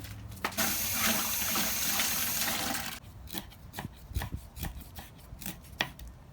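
Food being rinsed under running tap water in a kitchen sink for raw beef liver soi jut, a steady gushing stream for about three seconds, then intermittent splashes and handling knocks.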